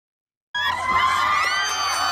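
Fans screaming at a concert, a dense, loud sustained wall of high-pitched shrieks and cheers that bursts in after half a second of silence and holds steady.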